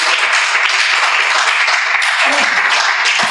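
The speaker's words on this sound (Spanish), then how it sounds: "Dele un aplauso al Señor con todo su corazón" Steady, dense applause from a church congregation, loud and close, holding at an even level throughout with no talk over it.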